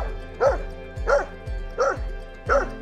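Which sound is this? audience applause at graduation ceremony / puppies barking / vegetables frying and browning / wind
puppies barking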